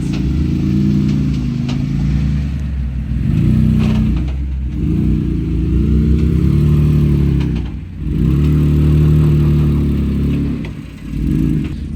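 A Jeep's engine churns loud and steady as it crawls a Level 9 off-road trail, its low rumble swelling and easing with throttle changes, with brief dips around the fourth and eighth seconds and no voices.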